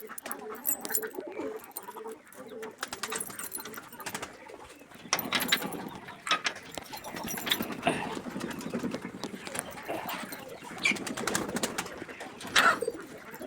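Pigeons in a pigeon house that holds young chicks, with soft repeated cooing and scattered bird calls over shuffling and movement noise, fairly close but not loud, no talking.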